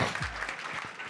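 Brief burst of studio audience applause for a singer on a French talk show, a short dense patter of clapping with some low voice rumble underneath at the start.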